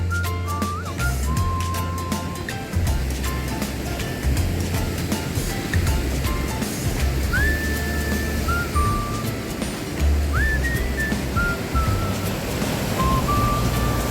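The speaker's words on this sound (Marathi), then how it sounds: "किती जोरजोराने लाटा पडत आहेत" Strong surf breaking steadily on Kasheli beach in Rajapur, a continuous loud wash of waves with gusting wind on the microphone and occasional faint tones over the roar.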